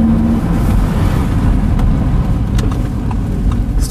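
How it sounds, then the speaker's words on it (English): A naturally aspirated V10 in an Audi R8 Spyder (540 hp, 2017) accelerates with a loud, steady, smooth engine note heard from inside the car, with no talking. "then you have a very harmonic acceleration from this naturally aspirated engine"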